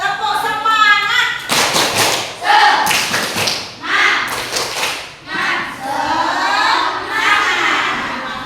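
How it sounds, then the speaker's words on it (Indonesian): A classroom of pupils performs a rhythmic spirit clap, a patterned burst of loud, sharp claps in unison with quick pauses and regrouping between phrases, accompanied by children's voices chanting along. "Nah, tepuk semangat."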